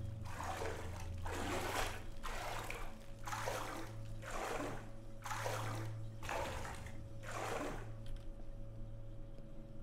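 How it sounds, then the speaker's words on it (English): Running water in the video game Bendy and the Ink Machine surges in a regular series of about eight rushing, gushing pulses over a low steady hum, moderately loud and close. "it sounds like the water's,"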